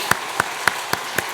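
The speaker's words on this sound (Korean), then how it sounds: "인사드릴 때 크게 박수로 환영하겠습니다" Slow, evenly spaced claps from a church congregation welcoming a new pastor during a Sunday service, five distinct sharp hits roughly a quarter second apart over a faint room background.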